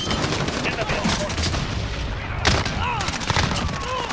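Rapid flak gunfire in a Modern Warfare multiplayer match, a dense, continuous rattle of shots with sharper bursts partway through, heard under faint game chatter and effects.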